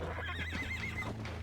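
A horse in the Red Dead Redemption video game whinnies with a wavering, rising-and-falling neigh over a steady low background hum, fairly quiet and with no talk.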